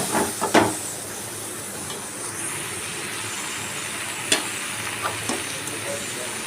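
Continuous sizzling as masala is sautéed in a hot pan for mutton curry, with a few stirring scrapes and clinks, steady and close, no talking.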